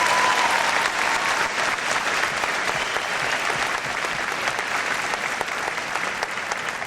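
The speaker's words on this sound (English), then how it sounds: "Let's give them a round of applause" Steady, dense applause from a high school graduation audience for the class officers, sustained and even throughout without pause.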